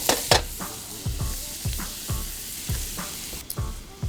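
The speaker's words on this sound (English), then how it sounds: "start throwing your diced onion, about half an onion diced. Start sweating that down with the butter" Diced onion sweats in melted butter as the base of a Memphis-style barbecue sauce: a close, continuous sizzle broken by regular scraping stir strokes about every half second.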